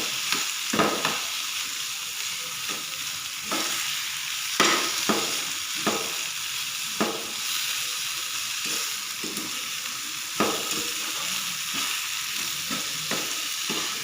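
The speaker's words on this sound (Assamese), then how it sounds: "আলুখিনি অলপ ৰঙচুৱা হোৱালৈকে ভাজিব লাগিব।" Potato pieces frying in oil until lightly browned, a continuous bright sizzle broken by repeated scraping stirs of a spatula, close and steady with no voices.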